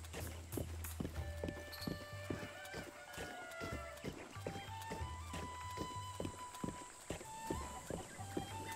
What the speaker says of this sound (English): Riding with my horsey.